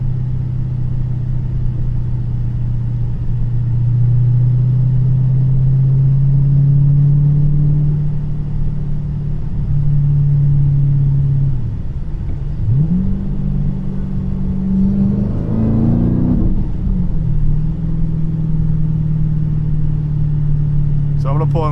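A Whipple-supercharged 426 Hemi in a car with a stalling issue drones steadily while driving, a loud, close low rumble that dips and rises briefly as the revs shift. Someone talks over the engine.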